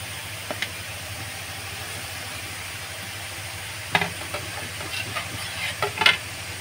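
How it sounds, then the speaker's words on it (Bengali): Grated carrots being stirred in hot ghee in a wok for gajar halwa, a soft continuous sizzle with a few sharper spatula scrapes and clatters toward the end, close and moderately loud, no talking. "ঘির মধ্যে এখন আমি গাজরটা দিয়ে দিয়েছি। এখন আমি গাজরটা ভালোভাবে নাড়িয়ে নেব"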